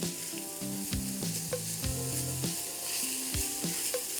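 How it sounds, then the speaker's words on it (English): Garlic frying in a hot pan for an osso buco braise, a steady close sizzle with scraping stir strokes and clanks running throughout, no talk. "Then I'm gonna add in the garlic for 15 seconds."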